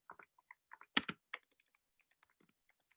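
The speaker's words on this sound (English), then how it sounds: "Sorry, I'm typing with one hand." Someone types on a computer keyboard, sparse clicks and short clusters of keystrokes, close and quiet, with no voices.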